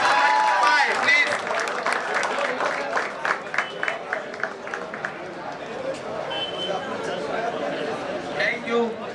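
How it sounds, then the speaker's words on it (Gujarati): A crowd at a community election committee vote count in Mumbai claps after a result is announced, scattered hand claps over murmuring and talk, fading to chatter. "ભાઈ તાળીઓ વગાડો ભાઈ."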